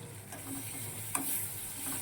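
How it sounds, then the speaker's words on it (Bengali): Onion, tomato, salt, turmeric and chilli powder sauté in a pan under a lid, giving a faint, steady sizzle with one brief click partway through. "চলো এটা ভালো করে কষিয়ে নেবো, এবার ঢেকে ঢেকে কষাবো।"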